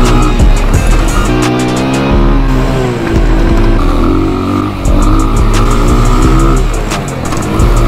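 A motocross bike engine held at full throttle on a cross track, loud and close, roaring continuously with its pitch rising and dipping through about eight seconds. No one speaks.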